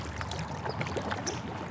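Kayak paddling downstream on a river near an island, with a steady wash of moving water and light splashes from the paddle strokes throughout, close and continuous with no talking.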